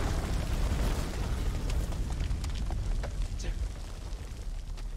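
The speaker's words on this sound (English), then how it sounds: "A grenade." Grenade blast in the video game House of Ashes, a loud rumbling burst of broadband noise that rolls on for several seconds with crackling debris.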